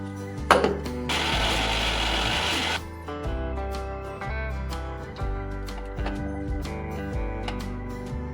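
A loud whirring burst of a kitchen mixer grinder crushing ginger, garlic cloves and green chillies, lasting about a second and a half over steady background music.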